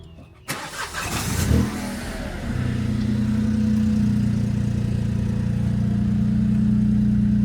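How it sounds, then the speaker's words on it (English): A car engine cranks and catches after a mobile mechanic's repair, briefly revving before settling into a steady, close idle that continues to the end with no talk. "let's fire it back up and hope that it doesn't give us any more trouble"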